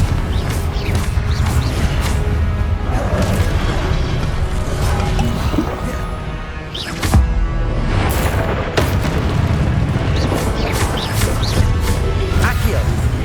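Booming blasts from the Confringo spell in the Hogwarts Legacy video game, with a steady rumbling bed, repeated impacts and a sharp crash around the middle.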